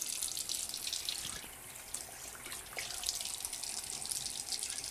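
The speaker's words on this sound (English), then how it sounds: "you turn on the faucet, you want to wet your hands first" A bathroom faucet runs steadily as hands are wetted under the stream before soap is applied for handwashing. The close, continuous splashing hiss fills the clip without talk.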